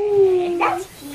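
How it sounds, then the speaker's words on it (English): A small, very little dog gives a short yip amid people talking at a child's birthday gathering, brief and fairly close, with voices continuing around it. "It's my dog."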